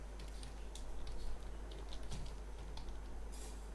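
Java code being typed on a computer keyboard: quick, irregular clicks and taps in uneven bursts, faint and close over a low steady hum, with no talk.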